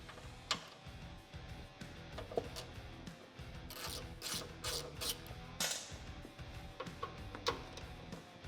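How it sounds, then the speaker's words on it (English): A hand ratchet clicks in quick repeated bursts while T40 bolts are backed out of a 2021 Ford Bronco's front bumper, faint and close, with brief pauses between runs of ticking. "Grab a T40 and a ratchet, and then take out these 3 T40 bolts here on either side of the Bronco bumper."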